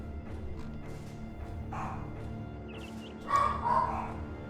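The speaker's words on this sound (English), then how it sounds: "The dogs upstairs are on high alert" Several dogs bark from upstairs, muffled and somewhat distant over a steady background hum, with a louder pair of barks near the end.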